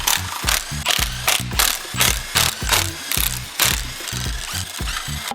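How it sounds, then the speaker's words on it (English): Ratchet wrench clicking in quick repeated bursts, loud and close, as bolts on the front timing cover of a Ford Fusion ST engine are loosened, with the pulleys and auxiliary belt already removed. "I can then start undoing all of the bolts for the front cover"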